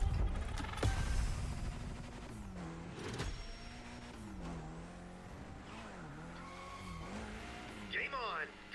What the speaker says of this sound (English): I know drifting in the Crew Motorfest is far different than, say, like Need for Speed.